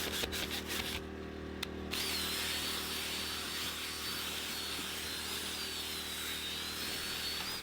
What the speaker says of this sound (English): when I start to agitate with the drill brush